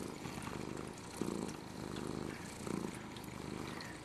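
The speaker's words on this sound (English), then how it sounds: "He's purring." Soft, steady purring from Mr. Mew, a diabetic cat, heard close up as a continuous low rumble over about four seconds, with a couple of slightly louder swells.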